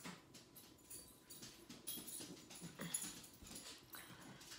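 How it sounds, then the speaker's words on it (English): Two dogs whimper and pant faintly indoors in a quiet room. Soft, irregular whines and breathy huffs come and go. "Oh my god, these dogs that I'm watching, Teddy and Sherry."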